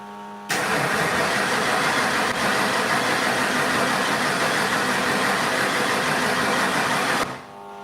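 A 1989 Ford Mustang with a 351 Windsor V8 engine runs steadily at a loud, close, broadband idle for about seven seconds, then cuts off abruptly.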